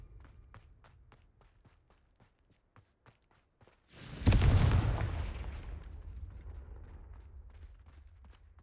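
After a run of soft footsteps, a Confringo blasting spell erupts loudly in Hogwarts Legacy, one sharp close explosion that rolls off into a long fading rumble.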